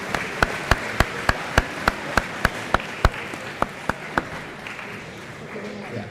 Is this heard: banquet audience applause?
yes